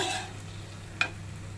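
Bread pieces frying in oil for bread halwa give a faint, steady sizzle, with one sharp utensil clink cutting through midway.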